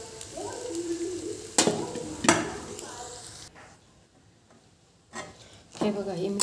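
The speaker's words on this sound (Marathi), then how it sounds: "हे साबुदाणा टाकून घेते सगळं आणि हे चांगलं परतून घेते" Sabudana khichdi with potatoes stir-fried in a pan, a soft sizzle broken by several sharp spatula scrapes and knocks against the pan, with someone talking at times and a quiet pause midway.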